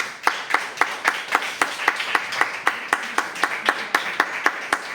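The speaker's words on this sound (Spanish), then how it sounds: "Vamos a dar un aplauso." Members of a church congregation clap in unison at a Sunday service, with crisp, evenly spaced beats of about four per second keeping a steady rhythm over a soft room murmur.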